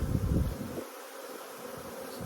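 Bees buzz around an open hive during an evening inspection in cold weather, a steady close insect drone that stays continuous throughout, loudest at the start.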